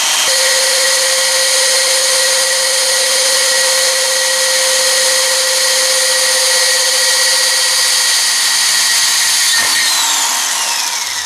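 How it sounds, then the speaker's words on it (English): A power drill whines steadily with a high grinding tone as it bores a hole through a glass jar, loud and continuous, its pitch shifting near the end. "You gotta be careful to hold that drill when it goes through, because you'll break your jar."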